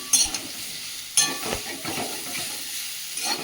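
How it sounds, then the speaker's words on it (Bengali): Potatoes fry in a pan, sizzling steadily up close, with a couple of sharp stirring scrapes and clatters near the start. "ভালো করে ভেজে নেব আলুটা।"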